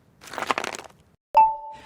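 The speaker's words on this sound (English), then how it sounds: "That's the intern Dale, cracking ice for a soda" A crunchy crackling burst, then a sharp crack followed by a ringing tone that fades; no voices.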